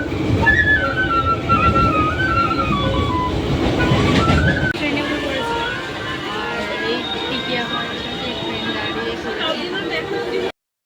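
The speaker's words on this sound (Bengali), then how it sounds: "ট্রেন তো এসে গেছে" Rumbling passenger train in West Bengal during the Durga Puja festival season, a steady loud carriage rumble with people chattering nearby throughout.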